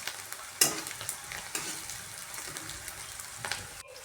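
Onion sautés in a hot pan for a Marathi wild-greens vegetable dish, a soft continuous sizzle broken by a few sharp scrapes and clinks of the stirring spoon, close by and quiet, with no voices.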